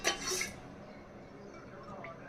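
A pressure cooker for dal dudhi is set down on a gas stove with a single short metallic clunk and rattle, followed by near quiet.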